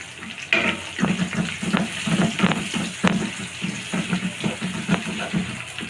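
Chopped onion hitting hot oil for a dal tempering, giving a loud, steady sizzle with rhythmic bursts of crackle and stirring throughout.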